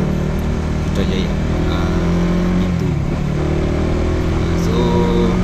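A Honda CBR150R motorcycle cruises along a Malaysian highway toward Sungai Besi and Putrajaya, its engine a steady, close, unbroken drone mixed with wind rush and no change in pace.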